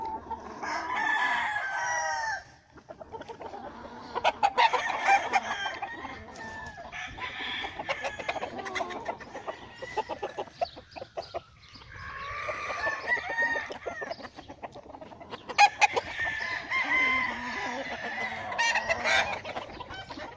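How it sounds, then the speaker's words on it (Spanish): Roosters crow repeatedly and hens cluck at a gamecock farm, several birds calling loudly and close, overlapping crows rising one after another with steady clucking between. "Ofreciéndoles pollos y gallos de primer nivel."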